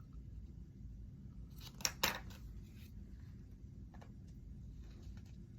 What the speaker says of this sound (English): Okay, so I think I'm gonna cut these flaps.